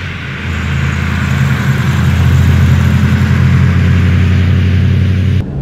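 A 1935 Horch 850 Sport car's engine drones steadily at a low, even pitch while driving, loud and close for several seconds before cutting off abruptly at the end.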